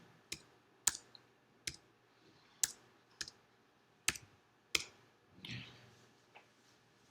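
Sharp, separate key clicks on a computer keyboard with heavier presses on the Enter key, about seven distinct taps spaced irregularly, close and fairly quiet.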